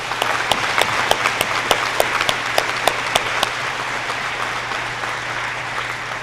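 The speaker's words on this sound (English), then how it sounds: "I would appreciate it if we could give them a round of applause." Applause from a crowd at a Veterans Day ceremony: sustained clapping with distinct individual claps standing out nearby, steady throughout and gradually thinning toward the end.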